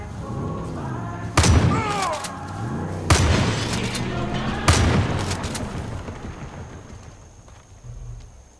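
Gunfire in the open-world shooter Far Cry 5: three loud, sharp bursts of shots spaced a couple of seconds apart, heard between chattering character voices and ambient game noise.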